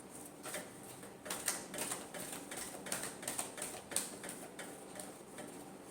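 Tarot cards being shuffled by hand for a love reading, a quiet run of soft, rapid riffling clicks and flicks repeating in bursts over steady background hiss, with no talking.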